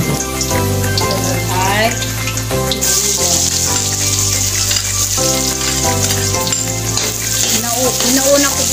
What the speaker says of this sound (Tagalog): gigisa po muna natin yung ating bawang